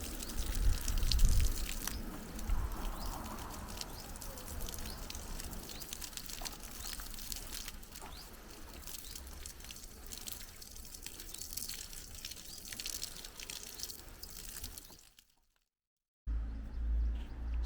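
Newly planted plants being watered in a garden, a steady soft wash of water pouring and dripping onto soil, continuous and fairly faint, with a brief silent gap near the end.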